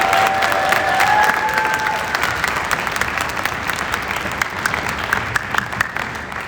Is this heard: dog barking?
no